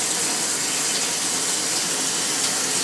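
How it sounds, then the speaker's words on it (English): Water tap on a line at 75 pounds of pressure running hard into a sink, a loud, close, unbroken hiss of gushing water with no voices. "Turn the water on."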